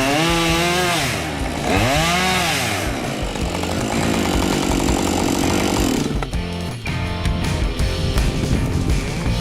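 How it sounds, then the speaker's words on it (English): Close and loud, a chainsaw cuts into a big tree in a forest, its engine rising and falling in pitch as it bogs into the wood, then revving steadily through the cut. "a lumberjack in bright orange safety gear uses a chainsaw to cut a big tree"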